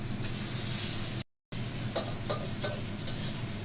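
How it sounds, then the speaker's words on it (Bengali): Dried fish shutki bharta with mustard oil mixed by hand in a bowl, giving a continuous soft squelching, mashing noise with a few slightly louder wet pushes, close up and with no talking. "এখন আবার মিক্স করা হবে ভালো করে মাখিয়ে নিবে হাতে"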